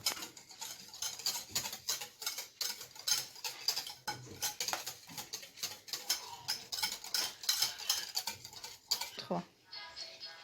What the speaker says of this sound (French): On doit vraiment bien mélanger sur le côté